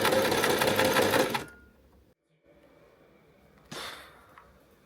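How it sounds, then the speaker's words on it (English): A sewing machine stitches the side seam of a Regency-style jacket in a short loud burst of rapid needle chatter, then stops, leaving near silence broken by one brief rustle or clack. "once I stitched together the side seam"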